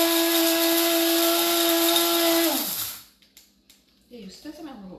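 An electric coffee grinder whines steadily as it grinds whole Pandola coffee beans, then spins down with a falling pitch and stops, after which a voice talks quietly nearby.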